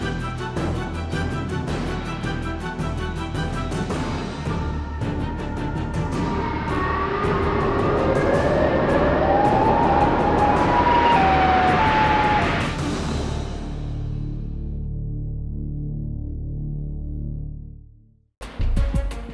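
A loud, sustained wailing siren from the Siren Head video game drones steadily for about twelve seconds, then fades and falls away to near silence, with a brief burst of noise at the end.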